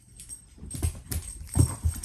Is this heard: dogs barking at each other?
yes